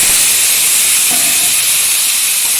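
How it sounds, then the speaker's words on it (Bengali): Washed ridge gourd hits hot oil in a pan where fish was just fried, producing a loud, continuous hissing sizzle that stays steady throughout. "এখন এই তেলে দিয়ে দিচ্ছি ধুয়ে রাখা ঝিঙে"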